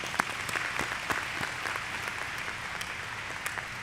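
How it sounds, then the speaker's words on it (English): Applause from a commencement audience at a Springfield College graduate ceremony, a steady wash of many hands clapping with a few sharper individual claps standing out, moderately distant and fairly even throughout. "Round of applause for that."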